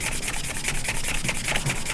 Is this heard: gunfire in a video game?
no